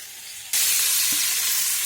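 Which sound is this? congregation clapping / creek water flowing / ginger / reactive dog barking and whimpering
ginger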